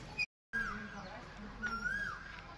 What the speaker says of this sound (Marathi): कोकिळेचा आवाज तुम्हाला कॅप्चर होत असेल